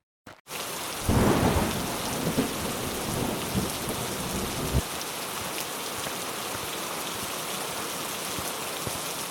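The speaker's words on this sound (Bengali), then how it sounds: "আস্তে আস্তে বৃষ্টি শুরু হয়ে গিয়েছিল" A thunderstorm brings a low rumble of thunder early on, then steady heavy rain drums on surfaces, loud and continuous to the end.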